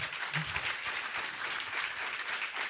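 Studio audience applauding at a French TV competition show, a steady dense wash of clapping throughout, moderately loud and close.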